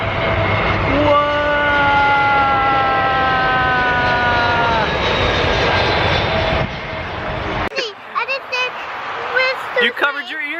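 Jet airplane landing at Tampa International Airport roars loudly overhead with a sustained engine whine that cuts off, followed by people talking excitedly nearby.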